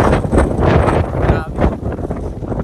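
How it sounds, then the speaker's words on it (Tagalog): Strong wind buffets the microphone at a roadside in a steady, roaring rush, with a person speaking briefly over it. "Pero sobrang lakas ang hangin."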